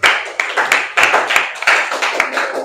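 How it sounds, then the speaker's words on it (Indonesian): Classroom pupils clap together in a steady burst of overlapping hand claps with sharp repeated peaks, fairly close and loud, with no talking over it. "Silahkan duduk, beri tepuk tangan ya."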